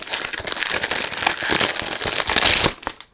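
Packaging crinkles and crackles continuously as a box of Swiss Arabian Shaghaf For Men 75 ml eau de parfum is unboxed, close and fairly loud, with no talk.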